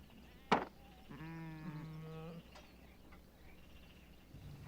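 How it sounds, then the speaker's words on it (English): A ewe lamb of the flock gives a single wavering bleat, close and clear, preceded by a sharp knock and followed by quiet background. "And Abraham set 7 ewe lambs of the flock by themselves."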